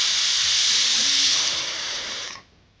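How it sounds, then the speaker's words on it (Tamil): A pressure cooker with chana inside vents a loud, steady steam hiss for about two seconds, then cuts off abruptly and falls quiet. "இப்போ சன்னா வந்து 3 விசில்ஸ் வந்தாச்சு"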